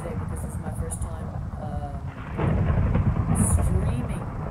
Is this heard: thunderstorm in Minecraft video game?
yes